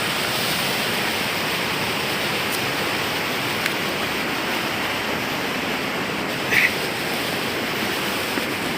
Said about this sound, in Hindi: चलो तो अब हम पहुंच गए नदी के किनारे